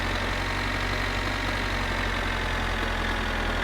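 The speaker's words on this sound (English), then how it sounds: "This model does have a turbo, so you can kind of hear that little turbo whine" A turbocharged tractor idles steadily in four-wheel drive in My Winter Car, a continuous low engine rumble with a faint whine riding on top, close and unbroken, with no talking.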